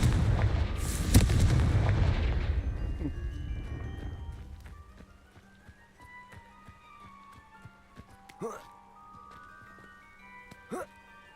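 Confringo fire spell cast in a wizard video game, a loud rumbling blast that fades over several seconds, then scattered sharp impact cracks and crackling bursts, with a voice speaking over the effects.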